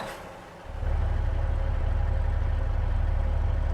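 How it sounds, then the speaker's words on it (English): Class 156 diesel multiple unit engine starting in Train Simulator 2018: after a brief hiss, a deep rumbling idle kicks in and settles into a steady, loud drone. "Going to start the engine now."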